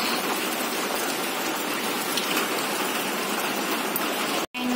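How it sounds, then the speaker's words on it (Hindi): Steady rain pours down outdoors, a dense continuous hiss of drops on surfaces heard from indoors, with no voices, briefly cutting out near the end. "देखिए बाहर हो रही है बारिश"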